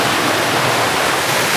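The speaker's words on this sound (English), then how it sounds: "I've just shown you a bit of video of the river there." A river rushing at Lady Clough in the Peak District, a loud, dense, unbroken roar of flowing water heard up close with no voices.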